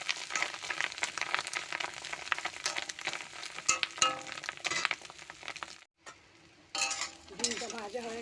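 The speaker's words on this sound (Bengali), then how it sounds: "ডিমটা ভাজা বসেছিলাম, 1 পিঠ ভাজা হয়ে গেছে, আমি 1 পিঠ উল্টে দেবো।" Fish roe frying in oil in a pan, a steady close sizzle with occasional utensil scrapes and stirring clatter, briefly dropping out near the end before resuming.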